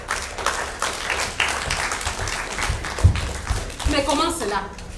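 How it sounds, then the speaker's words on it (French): Theatre audience applause during a stage comedy, a dense wash of clapping lasting several seconds, with voices and laughter mixed in toward the end. "Applaudissements pour Charles Perrault."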